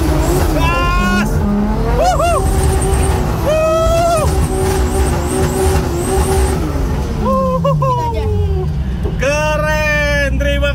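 A drift car at the Indonesian Drift Championship revs and accelerates hard, loud sustained engine roar with rising and falling pitch sweeps and tire squeal, continuous throughout, with crowd or commentator voices mixed in.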